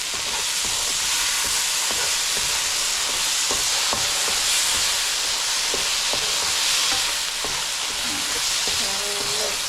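Vegetables and bolognese pasta sauce stirred in a hot pan give a steady, close sizzle and hiss, with soft scrapes and knocks of the spoon against the pan throughout.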